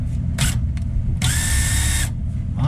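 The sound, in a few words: drill with bit slipping in the chuck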